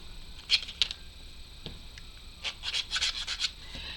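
Short, soft scratchy strokes of a sanding stick on a model railway build, a few isolated rubs followed by a quicker cluster of rasping passes, close and quiet.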